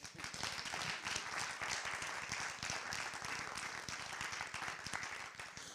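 Audience applause for a panel at a policy lab event, a quiet but steady patter of many hands clapping with distinct individual claps audible throughout about six seconds.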